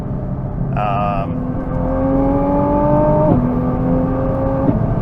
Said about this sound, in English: those pops and backfires when you shift gears are awesome